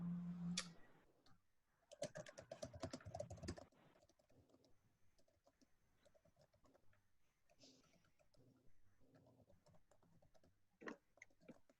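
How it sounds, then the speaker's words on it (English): Someone types on a computer keyboard during an online group meeting, a faint burst of rapid clicking followed by sparser, quieter keystrokes. "I'm a slow typer."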